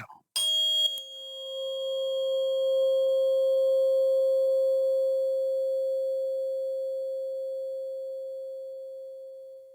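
A struck 528 Hz tone bowl rings out after a sharp strike, its pure sustained tone slowly fading over many seconds with faint overtones and a few soft background ticks.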